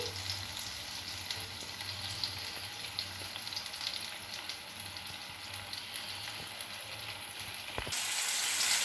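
Chicken burger patty frying in a pan, a steady broadband sizzle with crackling throughout, fairly close, no talk, growing a little louder and brighter near the end.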